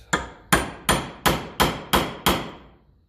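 Hammer striking a small punch on a part of a 1954 Ferguson TEF 20 diesel tractor, seven sharp metallic blows at an even pace, close and loud, each ringing briefly before the next.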